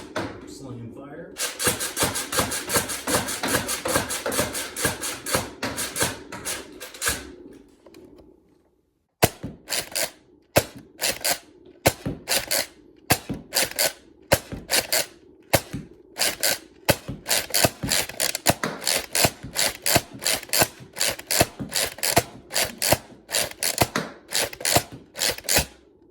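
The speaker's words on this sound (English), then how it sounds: "let's show you this thing firing. Starting off with the included elite darts." A Hasbro Nerf Zombie Corrupter toy blaster fires its included elite darts in a rapid, steady string of sharp mechanical snaps and clacks, up close and loud, with a brief pause partway through before the quick volley resumes.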